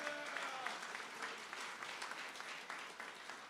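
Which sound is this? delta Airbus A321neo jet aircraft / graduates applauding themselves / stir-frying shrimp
graduates applauding themselves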